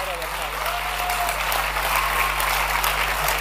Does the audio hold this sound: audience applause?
yes